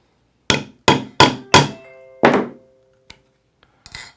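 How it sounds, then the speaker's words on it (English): Hammer pounding a snap setter onto a 12.5 mm snap post, four quick sharp strikes in a row, then a fifth heavier blow and a couple of faint light taps, loud and close with no talking. "make sure your setter goes between the spring bars before you start pounding on it"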